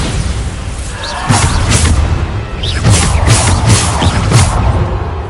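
A Bombarda spell cast in Hogwarts Legacy blasts with repeated loud booming bursts and crashes over dense game ambience and music, with a voice briefly calling out between the impacts.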